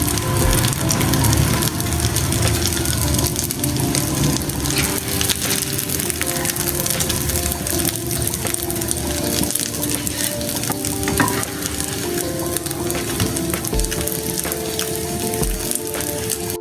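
Shami kabab patties frying in a pan, giving a loud, continuous close sizzle with occasional scraping and stirring sounds, without talk.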